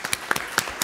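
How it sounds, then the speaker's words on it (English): Brief applause from people at a city council meeting, a short burst of scattered claps in a room, fairly soft and quick. "So I think she deserves a round of applause."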